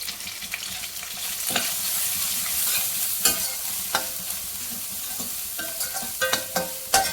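Curry leaves and turmeric fry in a pan of hot oil, crackling and sizzling up close, with bursts of spoon scraping and stirring, no voices over it.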